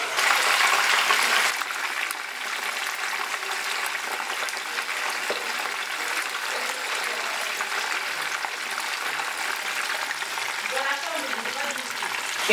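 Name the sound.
fish frying in hot oil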